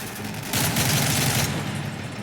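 Dense enemy gunfire from Call of Duty: Modern Warfare 3, a rattling burst of automatic fire that surges loudly for about a second amid a steady backdrop of game noise.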